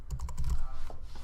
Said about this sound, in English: Oops, I'm pretty bad at typing today.